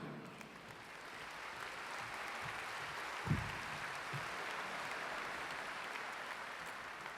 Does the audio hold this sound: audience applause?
yes